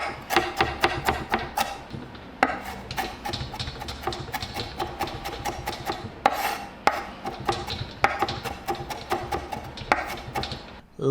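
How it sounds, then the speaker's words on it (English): A knife minces garlic and ginger on a cutting board in rapid bursts of close, crisp chopping taps, with brief pauses between runs and no voices. "We'll also want to peel and mince the ginger as well."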